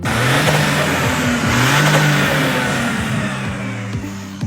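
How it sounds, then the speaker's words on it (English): A close, loud car engine revving hard, its pitch rising and falling with a sharp, high-pitched exhaust note from an 8-into-1 top-mounted exhaust manifold layered over the throaty roar. "The 8-into-1 top-mounted exhaust manifold that creates a unique high-frequency sound."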